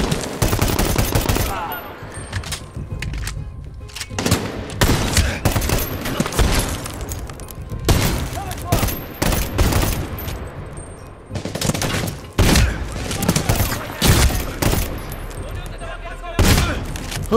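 Medal of Honor: Warfighter combat gunfire: repeated bursts of automatic rifle fire and sharp single shots crack out loud and close, in irregular clusters over a busy battle background.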